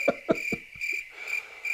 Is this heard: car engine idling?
no